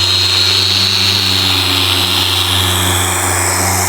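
A machine polisher runs steadily on a clear plastic convertible top window, a constant loud motor hum with a bright high whine holding evenly throughout, no talking.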